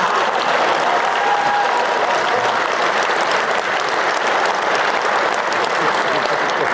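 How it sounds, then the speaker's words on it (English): A large audience at a political event gives a dense, steady round of applause, loud and continuous throughout with no break. "A big round of applause for the Timu version of me,"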